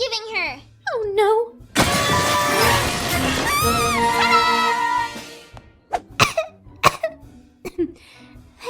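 A cartoon character coughs from inhaled party confetti: a few sharp coughs, then a long loud strained wail-like fit, followed by spaced hacking coughs and throat clearing, with voices talking around it.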